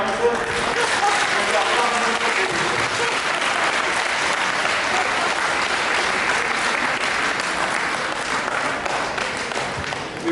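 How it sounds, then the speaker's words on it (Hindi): Loud, sustained applause from a large convention audience after a theatrical presentation fills the whole stretch, a dense continuous patter of many hands clapping. "तो एक जोरदार ताली से"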